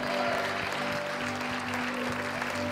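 Church congregation clapping during worship: a steady, dense wash of many hands with a regular underlying beat and a low sustained hum beneath, continuous and fairly loud throughout.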